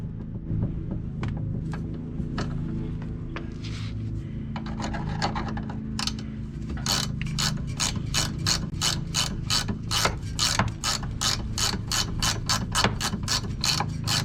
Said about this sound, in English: Or a ratchet.